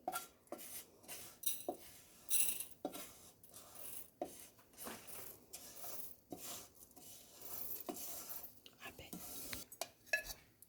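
Roasted ingredients for beerakaya pachadi, a ridge gourd chutney, are scooped from a pan into a cup, with close, repeated metal spoon scrapes and clinks in an irregular rhythm and faint talk in the background.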